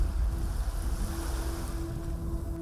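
Sea waves wash onto a sandy beach in a steady, continuous surf roar with some wind noise, fairly close and without talk.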